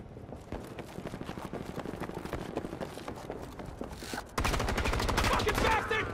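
Dense video game gunfire: rapid automatic bursts rattle continuously, then jump louder and heavier for the final two seconds. A voice is faintly present underneath.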